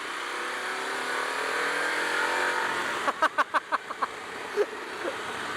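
A Harley-Davidson Pan America Special motorcycle being ridden, a steady loud engine and rushing wind roar that drops away, followed by a string of sharp clicking or popping bursts near the end.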